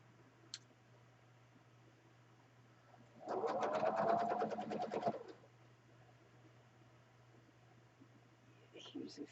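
Sewing machine stitching a fabric snippet roll, a rapid rhythmic run of needle strokes lasting about two seconds against a quiet hum.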